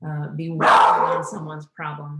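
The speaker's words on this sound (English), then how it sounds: "Excuse the dog." A dog barks loudly and close by in a few short yips while a person keeps talking over it during an online event session.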